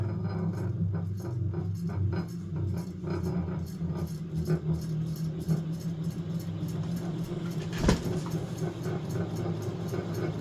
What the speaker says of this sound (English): it's definitely that canopy rattling